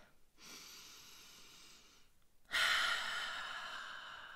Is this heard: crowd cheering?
no